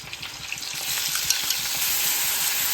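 Chopped onion and spices fry in a pan for a ghugni dish, a continuous bright sizzle with small crackling pops scattered throughout, close and steady with no voices.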